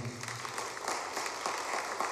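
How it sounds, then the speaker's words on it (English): Audience applause at a performance: a dense, steady wash of clapping that holds at an even level throughout, with no voices on top. "So they deserve a round of applause for being,"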